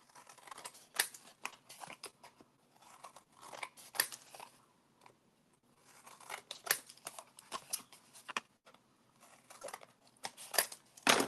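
Scissors snip through paper while cutting the corners of mini album pages, giving a series of close, crisp cutting strokes in irregular bursts with short pauses between them, heard alone without talk.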